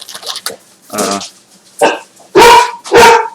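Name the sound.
dog barking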